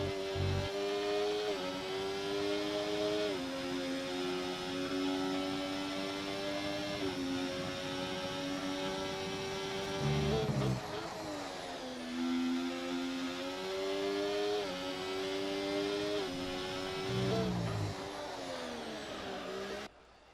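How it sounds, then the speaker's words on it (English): Ferrari race car engine on a lap in a racing video game, screaming high revs held through long runs with brief drops at gear changes and braking, loud and continuous throughout. "I'll just leave you guys to listening to this Ferrari engine and what FX7 Danny does on his lap."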